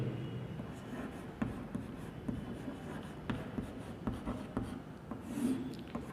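Faint, scratchy writing strokes on a board as a statistics table column is filled in, coming as irregular light taps and scrapes at close range with no talk over them.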